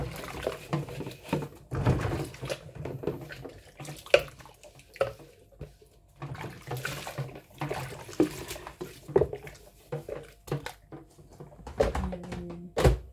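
Dishes, including plastic items, are washed by hand in a kitchen sink: running water splashes and drips in uneven bursts, with soft knocks and clatters of items being handled nearby.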